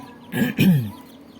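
A chick gives a couple of short, throaty clucks close by in a small coop, two quick bursts over a quiet background.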